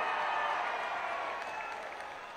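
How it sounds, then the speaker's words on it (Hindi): Crowd at an outdoor political rally in Nanded applauding a local MP, a broad sustained wash of clapping that gradually fades over a couple of seconds. "जोर से ताली बजाइए सभी लोग"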